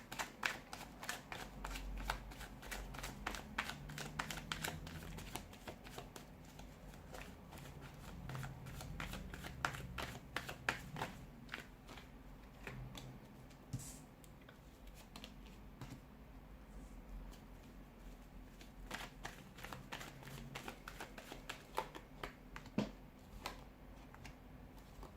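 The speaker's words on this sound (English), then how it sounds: "let's give the cards a shuffle" Tarot cards shuffled at length in quick, crisp riffles and clicks, nearby and fairly quiet, with a low room hum beneath and no talking.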